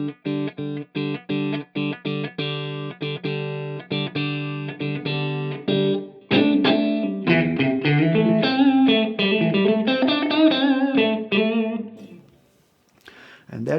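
Electric guitar played through a Strymon Iridium amp and cabinet simulator pedal with the room control turned down, giving a drier tone; a strummed chord passage gives way to sustained single-note melodic lines, loud and close.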